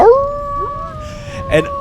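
A human voice imitates a wolf howling at a campground: one sustained, rising and then level howl lasting under two seconds, loud and close, ending in a short breathy break.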